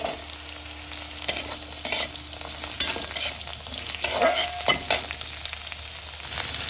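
Chicken with chopped green chillies and onions is stirred and fried in a pan for a dragon chicken dish. A steady sizzle runs underneath, broken by repeated sharp scrapes and clacks of the spatula. No one speaks.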